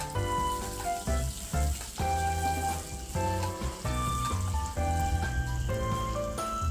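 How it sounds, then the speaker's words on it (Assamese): Half a large onion, finely chopped, fries in hot oil with cumin for an Assamese kofta curry, a hissing sizzle heard beneath prominent music that carries on throughout. "পিয়াজখিনি ৰঙচুৱা হোৱাকৈ অকণমান ভাজি লওঁ।"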